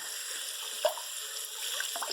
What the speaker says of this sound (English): rinsing off the yarn, so that's any excess colour that the yarn hasn't taken up